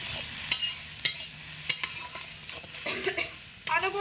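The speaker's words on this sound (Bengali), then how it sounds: "অনবরত নাড়াচাড়া করে মশলাপাতি খুব ভালো করে একসঙ্গে কষিয়ে নেব, অবশ্যই লো আঁচে রেখে।" A spatula stirs salt, turmeric and red chili powder in a pan over low heat, giving a few sharp scraping clicks against the metal over a faint, steady sizzle.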